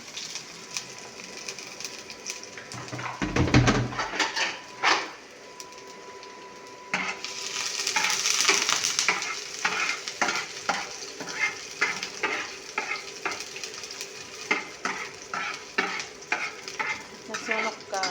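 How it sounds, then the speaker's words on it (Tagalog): A generous heap of garlic hits a hot pan for corned beef with potatoes and scorches fast. A sharp burst of sizzle gives way to steady frying, with rhythmic spatula scrapes and clicks against the pan and no voices. "Lagay muna natin yung bawang."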